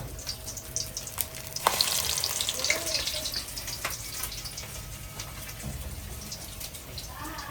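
Breaded chicken drumsticks deep frying in hot oil, a dense, steady crackling sizzle heard close up with a brief burst of louder bubbling, and no one speaking.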